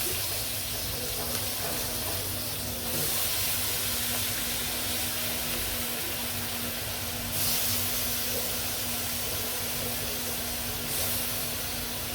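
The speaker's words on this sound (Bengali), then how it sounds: "এখন আমি শাকটি দিয়ে দেবো পালং শাক দিয়ে" Spinach with turmeric, chili and salt cooks in a hot pan alongside aire fish, giving a steady, even sizzle and hiss with a few brief louder surges, with no talking.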